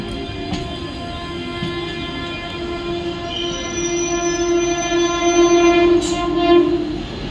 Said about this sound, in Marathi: मुंबई छत्रपति शिवाजी महाराज टर्मिनस जाने वाली धीमी लोकल थोड़े ही समय में प्लेटफॉर्म क्रमांक 2 पर आ रही है